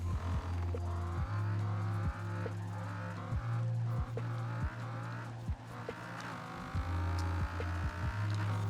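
A Dodge Viper's engine drones loudly on a short race lap in Forza Horizon 4, a steady low throb with repeated brief shift dips and revs, no talking.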